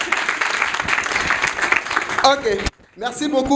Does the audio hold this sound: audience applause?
yes